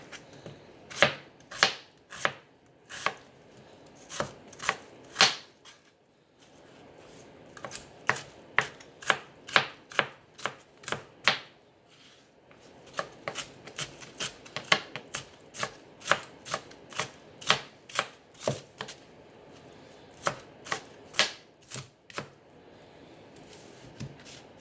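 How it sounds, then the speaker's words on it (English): A knife chopping an ingredient into small pieces on a cutting board for rice porridge, with crisp, close, rhythmic taps in quick runs and brief pauses between them. "I want to chop it in small"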